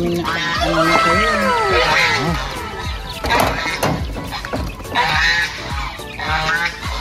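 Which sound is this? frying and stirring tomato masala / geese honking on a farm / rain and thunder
geese honking on a farm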